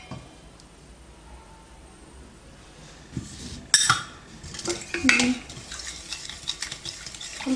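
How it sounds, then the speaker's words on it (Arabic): Egg mixed in a bowl with a whisk or wooden spoon for mille-feuille batter, soft scraping at first, then louder clinks and knocks against the bowl. "نخلطو مزيان البيض ديالنا بهاد الطريقه"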